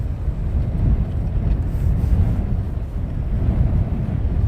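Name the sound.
strong wind on the microphone at Luton Airport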